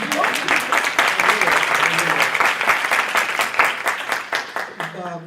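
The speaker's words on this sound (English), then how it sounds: "Yeah, good applause. Give it up." Panel discussion audience gives a round of applause, with distinct sharp claps in a fairly regular rhythm that thin out and fade near the end as a voice begins to speak.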